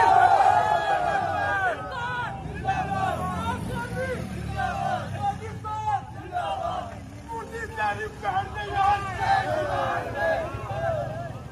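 A crowd fills the streets, heard as dense overlapping chatter and shouting voices that rise and fall with steady background babble.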